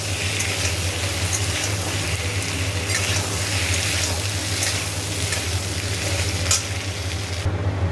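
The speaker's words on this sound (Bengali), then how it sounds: "আদাটা ভালো করে কষিয়ে নিই" Ginger fries with a little salt in a pan, giving a continuous close sizzle with light stirring scrapes. The sizzle holds steady for several seconds, and no voices are heard.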